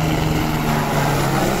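A helicopter flies over a race circuit, its rotor and engine making a steady, loud droning hum with a constant low tone that carries through the whole moment without a break.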